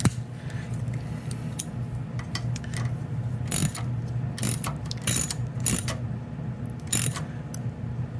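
A half-inch bolt being tightened on a Troy-Bilt Horse tiller, heard as a run of close ratchet clicks and scraping metal in uneven bursts over a low mechanical hum.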